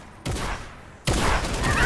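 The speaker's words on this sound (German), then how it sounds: "Das ist ein Maschinengewehr." A machine gun in Fortnite fires in two close bursts, the first brief and the second longer and louder, each a dense rattle of rapid shots.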